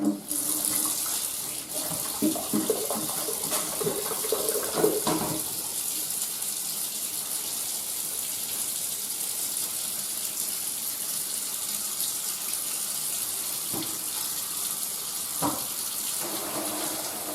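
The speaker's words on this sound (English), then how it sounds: "So I'm just going to fill up the sink" Cold tap water runs steadily into a kitchen sink, a continuous splashing rush that fills the whole stretch, with a few clinks and knocks early on.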